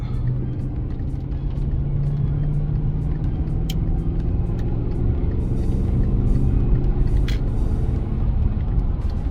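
A car cruising on an expressway in France, with a steady loud road and engine rumble from inside the cabin and no break in the drone throughout.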